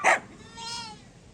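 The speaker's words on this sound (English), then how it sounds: "It's a goat." A goat gives a short, wavering bleat at moderate distance, following a brief sharp noise at the start.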